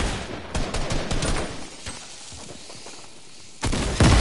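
Burst rifle fire in a video game, with a few quick volleys of sharp, loud cracks and short pauses between them, and no voices.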